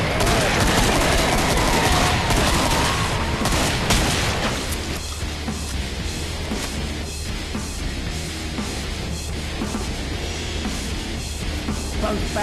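Gunfire rattles through the video game Killing Floor, with a dense, loud barrage of shots and booms blending into a continuous roar for the whole stretch, and no voices.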